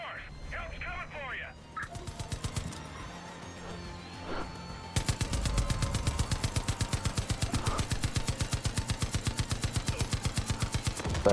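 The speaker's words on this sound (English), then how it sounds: "You must be in the Gatling gun." Rapid rhythmic gunfire from a Gatling gun in a multiplayer shooter, a steady rattling burst that runs loud from about the middle of the clip onward, with scattered game noise and voices beforehand.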